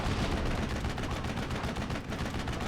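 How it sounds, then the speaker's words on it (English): Steady, rumbling battlefield fire in Steel Division: Normandy 44, a loud continuous wash of shots and blasts with no clear pause, dense and unbroken throughout. "Wow, that artillery just doesn't miss, does it?"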